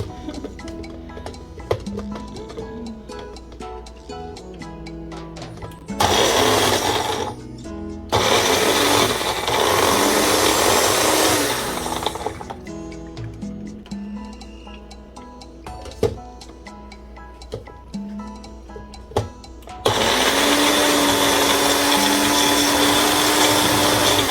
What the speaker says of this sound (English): I need to plug my blender.